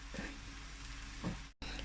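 Soft, steady sizzling of pancake batter frying in a pan, quiet and close, with a brief scrape partway through.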